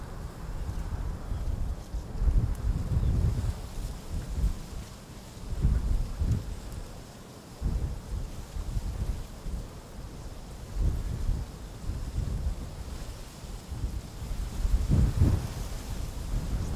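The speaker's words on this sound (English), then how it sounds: "Well, the wind is definitely not slowing down just yet." Strong, gusting crosswind at Schiphol airport roars steadily against the microphone, surging and easing in low rumbling waves with no talk.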